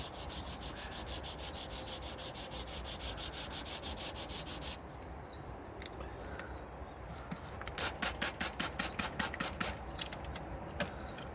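Steady hand sanding along a paint scratch on a Daihatsu Materia, a continuous rhythmic rubbing scrape with quicker strokes toward the end, close and fairly loud.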